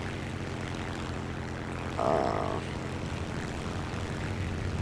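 Propeller aircraft engine in the video game War Thunder, a steady droning hum throughout with a brief louder burst midway, and a short voice exclamation.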